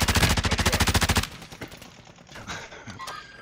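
A loud, close burst of rapid automatic gunfire in a video game shooter lasts about a second, then gives way to quieter scattered shots and background game noise.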